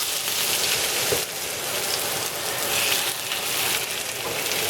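Potatoes sauteing in canola oil in a pan, a steady dense sizzle and crackle like rain, loud and close throughout with no voices.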